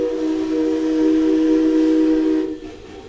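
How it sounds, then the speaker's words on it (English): A train whistle blows loud and steady as the train passes, holding a sustained, near tone for about two and a half seconds before it cuts off and fades into background hiss. "Here comes the train again."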